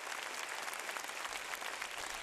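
A theatre audience gives performers enthusiastic, sustained applause after a dance show, a dense, even roar of clapping that fills the whole moment without pause.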